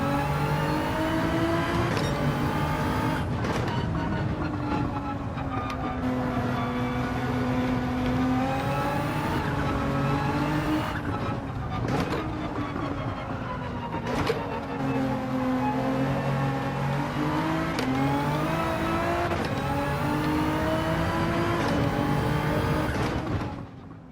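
Race car in the Gran Turismo game lapping Grand Valley: a loud, continuous engine whine that climbs and dips through repeated gear changes and throttle lifts, with the pitch rising again under acceleration.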